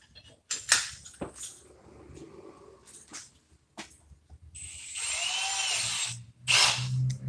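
A cordless drill, either a Milwaukee M18 Fuel Gen3 hammer drill or a Ryobi 18V One+, runs in short whirring bursts and then drills steadily for a longer stretch near the end. The sound is close and moderately loud, with no talking.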